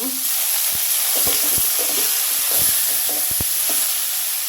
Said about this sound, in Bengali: এই পর্যায়ে শাকগুলো দিয়ে দিব ওটার মধ্যে দিয়ে ভালো করে এটা ভালো করে নাড়াটা দিয়ে নেব